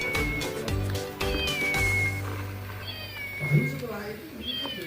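A toy cat doll giving repeated electronic meows, loud and close, with someone talking over it.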